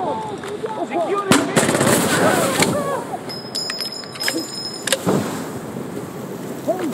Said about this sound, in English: We need explosive mortars here! Output, all right, let's call it in!